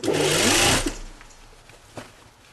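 A sewing machine stitches along the neckline of a Brigand jacket from a kit toward the shoulder seam, running in one loud, close whirring burst of under a second before falling quiet, followed by a faint click.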